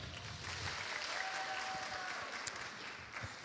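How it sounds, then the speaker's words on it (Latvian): Listeners at a city talk event in Riga clap for a student speaker, a moderate wash of applause running throughout, somewhat distant and even. "Aplausi!"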